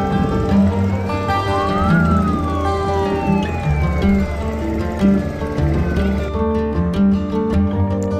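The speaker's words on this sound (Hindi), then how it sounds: "यहाँ पर बजता है एक सायरन जब डॉल्फिन दिखती हैं।" A siren on a dolphin-watching boat at Puri wails, rising and then falling in pitch, over a steady droning hum.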